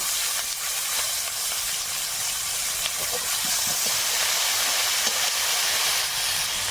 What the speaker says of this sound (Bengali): রসুনের মধ্যে একটু কাঁচা লঙ্কা দিয়েছি একটু ভেজে নিলাম এবার চিংড়িটা দেব